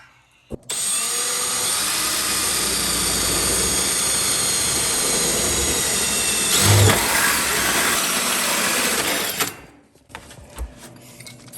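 A power drill cuts a 1.5 inch hole through the firewall of a 1964 Datsun 320 truck, a loud, steady, whining grind running about nine seconds before stopping abruptly, followed by a few quiet knocks.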